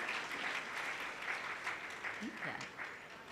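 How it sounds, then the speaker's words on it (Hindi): At a Janmashtami celebration, an audience applauds young child performers on stage, a quiet, distant, continuous patter of clapping with a voice faintly heard partway through. "उनका भी हम सब खूब खूब खूब तालियों के द्वारा"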